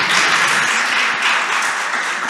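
An audience at a women's conference applauds a speaker with dense, steady clapping that stays loud for the whole short stretch.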